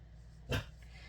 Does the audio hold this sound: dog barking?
yes